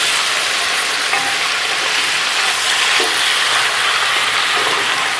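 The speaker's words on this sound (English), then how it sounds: "you just want to cook down all the meat. Get some color up on it and bring out some flavor in it." Beef browns in a big gigantic pot for Southern beef goulash on an outdoor gas stove, giving a loud, steady, close-up sizzle and hiss that never lets up, with faint stirring beneath it and no speech.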